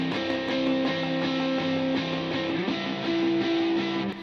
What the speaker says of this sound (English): The electric guitar rhythm tracks sound like this.